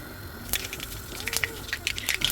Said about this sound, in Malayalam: വെളിച്ചെണ്ണ ചൂടായി വന്നിട്ടുണ്ട് അതിനകത്തേക്ക് കടുക് ഇട്ട് കൊടുക്കാം